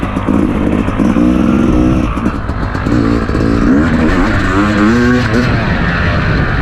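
A Yamaha YZ250X two-stroke dirt bike ridden on a mountain trail, its engine loud and close throughout, revving up and down with rising and falling pitch as it accelerates and shifts gears.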